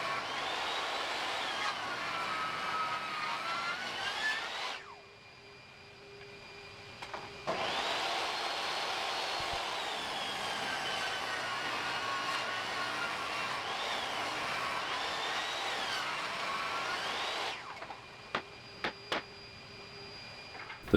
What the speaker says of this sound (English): For the remaining part, I resaw it into 1x4s, keeping the same face against the fence for a nice almost perfect cut